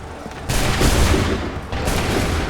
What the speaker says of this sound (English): Wait for my signal. Open fire.